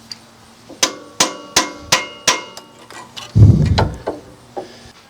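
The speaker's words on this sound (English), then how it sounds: "we can use a small hammer and tap that bolt out" Small hammer tapping a sway bar link bolt out of the suspension on a 2001 Ford F-series truck with a 5.4L engine: six sharp, ringing metallic strikes in a steady rhythm, close and loud, then a brief scraping clatter as the bolt shifts.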